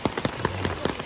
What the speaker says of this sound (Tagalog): Inabot kami ng ulan.